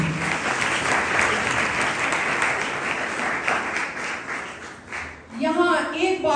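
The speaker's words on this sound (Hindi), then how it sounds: "आए कलाम के लिए जोरदार तालियां करें।" Loud, dense applause from a church congregation fills the space for about five seconds, then stops abruptly as a voice begins to speak.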